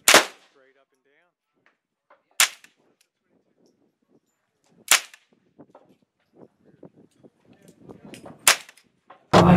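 Single gunshots at an outdoor shooting range, four or five sharp, loud cracks spaced a few seconds apart, with quiet voices talking in between.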